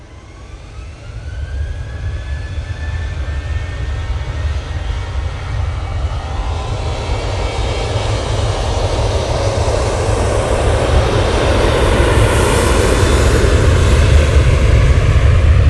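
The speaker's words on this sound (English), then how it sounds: "There goes that TUI 737-800." A TUI Boeing 737-800 jet departs, its engine roar building steadily louder and nearer with a rising whine, ending in a full close rumble.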